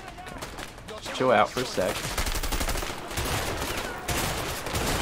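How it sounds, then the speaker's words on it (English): Shotgun blasts in the video game A Way Out, fired across a pool, heavy booming reports mixed with other gunfire, with someone talking over the shooting. "Shooting across the pool with my shotgun."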